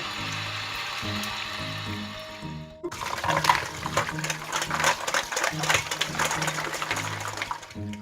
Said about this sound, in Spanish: A continuación lo vamos a frotar bien bajo el chorro del agua para que se queden bien limpios de los restos que hemos raspado.